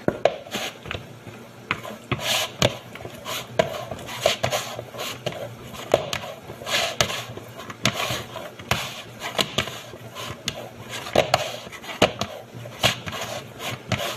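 Hand-mixed dough is worked in a bowl, soft irregular rubbing and slapping strokes with occasional light knocks against the bowl, close and fairly quiet.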